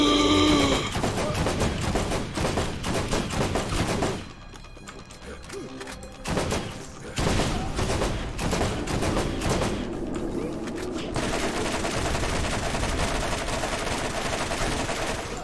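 Dense gunfire rattles in a Borderlands fight against the Rakk Hive boss. Rapid bursts and clicking weapon mechanisms run almost continuously, with a short quieter gap partway through, all loud and close.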